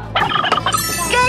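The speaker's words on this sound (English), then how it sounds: "Oh, I think I've seen this bird before, except on Thanksgiving. It looks like it's a turkey." A turkey at an indoor children's museum gobbles loudly and close by in a rapid, warbling burst that runs for about a second.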